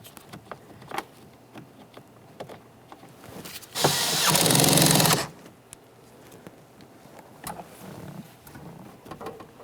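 A power tool whirs for a little over a second, backing out a 10mm headed mounting bolt from a 2007-2017 Jeep Patriot rear door, between scattered clicks and handling noises.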